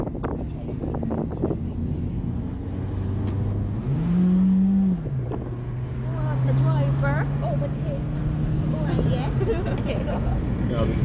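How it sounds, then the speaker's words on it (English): A car driving on a road between Westmoreland and Montego Bay, its engine shifting gear and then accelerating with a rising, sustained whine, heard from inside under wind noise while people talk. "when this car changes gear to go faster, it goes. I guess it wants to be a race car in its next life. It sounds like one."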